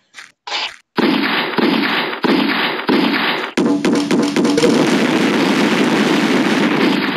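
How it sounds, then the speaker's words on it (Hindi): Hand grenade explosions in the Mini Militia mobile game: two short blasts open, then a rapid string of booming bursts rolls into a continuous loud crackling roar, with no talking. "ये जो है ना ये हैंड ग्रेनेड का बाप है और ये धड़ाधड़ हैंड ग्रेनेड फेंकता है।"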